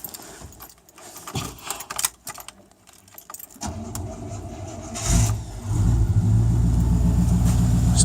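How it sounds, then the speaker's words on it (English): A 1989 Chevy Blazer is cold-started in snowy winter weather. Keys jangle and rattle for a few seconds, then the engine cranks and catches, settling into a loud, steady, rumbling idle close by. "I'm going to do a cold start here."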